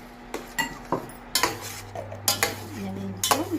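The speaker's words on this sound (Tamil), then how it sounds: "அப்படியே கிளறி இனி வந்து நெய்யோடு சேர்த்து கிளறிடும்." Milk halwa is stirred with ghee in a pan, a metal spoon scraping and knocking against the pan in irregular clinks over a faint low background hum, with no talking.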